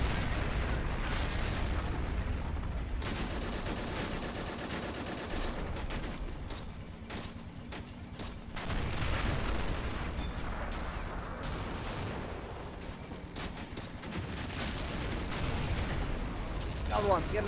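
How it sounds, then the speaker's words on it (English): In the Assault Squad 2 video game, high-explosive mortar rounds pound a bunker, producing repeated heavy, rumbling blasts that blend with steady crackling gunfire into a continuous, loud battle din, with occasional voices underneath. "Get a bloody HE round into that bunker."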